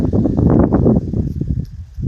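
Strong, gusty, cold wind buffets the microphone in loud rumbling surges outdoors by a greenhouse, easing briefly between gusts, with faint rustling underneath.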